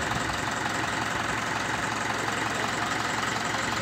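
A Mahindra 575 DI tractor engine idles close by with a steady, rapid low chugging knock, continuous and loud throughout, with no voices.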